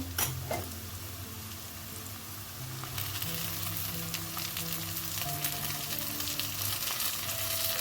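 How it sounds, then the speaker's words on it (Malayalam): Onions and tomatoes fry steadily in a pan, a continuous close sizzle with occasional soft scrapes of stirring and a brief clatter near the start. "ഇങ്ങനെ ഇളക്കി കൊടുക്കാം"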